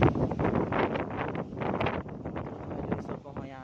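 Heavy wind buffeting the microphone in rough, continuous gusts, with a voice partly buried beneath the rumble.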